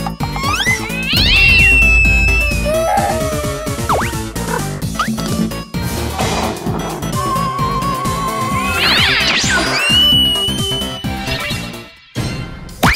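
An animated cartoon cat meows loudly and repeatedly, with drawn-out, wavering cries rising over a busy backdrop of cartoon music and effects.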